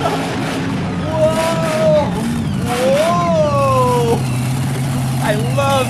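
A monster truck engine rumbles and revs as the throttle is opened, a loud, sustained drone with rising surges, heard beneath excited voices talking and exclaiming.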